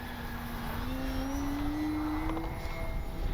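A Durafly Tundra V3 RC bush plane climbs straight up at about half throttle, its electric motor giving a steady droning whine that rises slightly in pitch over a continuous outdoor hiss.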